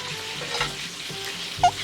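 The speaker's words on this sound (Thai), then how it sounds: "เดี๋ยวผัดกระเทียมก่อนเลย" Garlic stir-fries in hot oil with a continuous close sizzle, broken by a few soft scrapes and stirring knocks in the pan.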